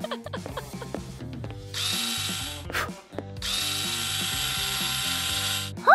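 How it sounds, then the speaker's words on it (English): A power drill drives screws in a comedy skit, with rapid ratcheting clicks and bursts of loud, buzzing whir, close up, set against a rhythmic musical backing and brief pauses between runs. "All I gotta do is tighten the screws!"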